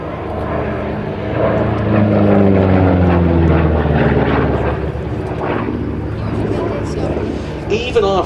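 A P-47D Thunderbolt, 'Nellie B', flies a display at an Abingdon airshow, its propeller engine droning loud and steady as it passes, rising and falling in pitch, with a commentator's voice underneath.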